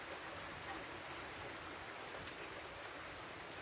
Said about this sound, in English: it's been raining like cats and dogs for the past, I don't know, 12 hours